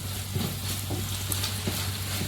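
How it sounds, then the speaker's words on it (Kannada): Chicken frying in a pan over a high flame as its water cooks off, giving a steady close sizzle with scattered crackles and pops, no voices. "ಈಗ ಇದೇ ರೀತಿ ಇದನ್ನು ಫ್ರೈ ಮತ್ತು ನೀರನ್ನು ಡ್ರೈ ಮಾಡ್ಕೊಳ್ಳೋಣ."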